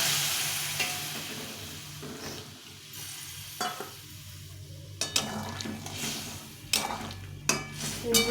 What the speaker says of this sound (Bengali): এখন একটু জল দিয়ে দিব জলটা ফুটিয়ে রেখেছিলাম জলটা দিয়ে